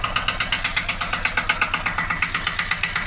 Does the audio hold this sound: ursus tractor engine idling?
yes